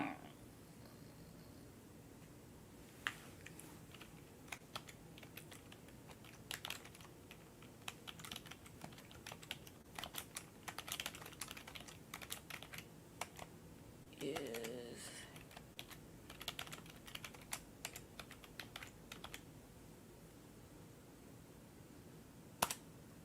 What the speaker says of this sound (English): let me find my keyboard so I can type it up.